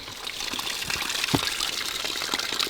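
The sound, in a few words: water running while washing fish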